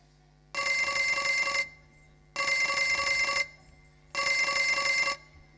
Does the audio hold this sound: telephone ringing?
yes